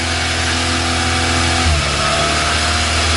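Mazda MX5 with a faulty idle air control valve running loud at a high idle, a steady, dense engine drone close by that dips briefly in pitch midway before settling back.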